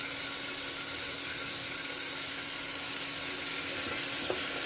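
Finely chopped red tomato frying with ginger-garlic paste, plus earlier onion, for a spicy matki batata rassa: a loud, continuous hiss and crackle of oil that holds steady throughout, without any speech.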